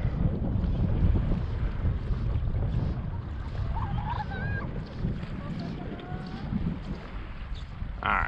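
Strong wind buffets the microphone on a lake, a constant low roar of gusts over water from a boat with faint lapping waves beneath, loud and steady throughout.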